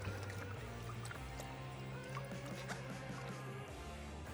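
Car wash soap is stirred into a bucket of water, a continuous close sloshing and swirling of liquid with low, wet churning throughout.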